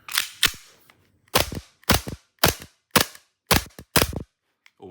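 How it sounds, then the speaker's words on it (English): A Sig Sauer P229 airsoft gas blowback pistol, made by KJW or WE, is dry-fired: about eight sharp, crisp snaps of the slide cycling, spaced roughly half a second apart, loud and close with silence between. "Just a bit of dry firing."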